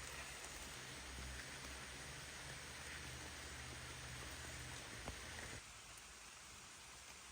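Heavy rain falls in a forest as a steady, even hiss that fills the whole stretch, faint and distant, easing slightly toward the end.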